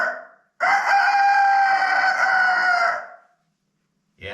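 A single rooster crows one long, ringing cock-a-doodle-doo, loud and close, rising quickly and holding before trailing off into silence, then a short burst of another sound starts right at the end.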